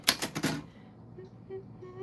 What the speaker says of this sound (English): it fell on the typewriter bell